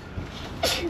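A single quick sneeze from someone in a car during a family camping trip, a brief burst over steady vehicle background noise.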